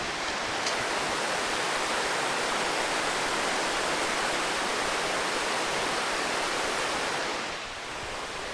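A river running with snow melt flows in a steady, broad hiss of rushing water, close and constant, easing slightly at the very end, with no voices.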